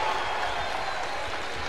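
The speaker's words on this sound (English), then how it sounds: "They're cheering Johnny David." A steady roar of crowd cheering fills the arena at a basketball exhibition game between Kentucky and Mega Bemax in the Bahamas. The noise is broad and sustained, with a voice faintly mixed in.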